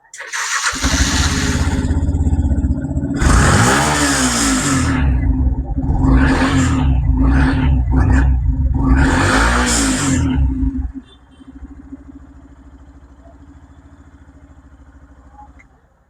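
A second-hand motorcycle engine is revved hard in several loud, close bursts for about eleven seconds, then drops to a quieter steady idle.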